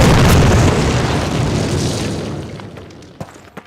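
A planted demolition charge goes off in Call of Duty 1, one loud boom that rolls away into a long fading rumble, followed by a couple of small debris clatters.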